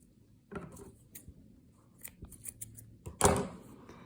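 Scissors snipping yarn after crocheting a blanket border, a few soft, close metallic clicks and a sharper cut near the end amid quiet handling noise, no talking.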